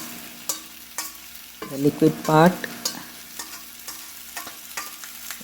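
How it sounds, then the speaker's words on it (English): Crab and leftover masala sizzling in a pan while being sautéed for a South Indian spicy crab roast, a steady fry with stirring scrapes and clinks, and a voice briefly speaking over it. "So you can see them nicely sizzling now."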